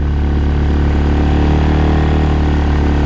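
A motorcycle engine fitted with a new carburetor runs loud and close outdoors by the Vistula, a continuous dense mechanical roar held at steady high revs throughout, with no speech.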